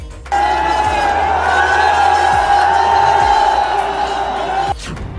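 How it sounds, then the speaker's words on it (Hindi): Packed political rally crowd inside a Delhi stadium, a dense continuous roar of many voices swelling in and holding loud for several seconds before cutting off, with a few low thumps underneath. "स्टेडियम के अंदर खचाखच भरे लोग, स्टेडियम के बाहर भी उतनी ही भीड़"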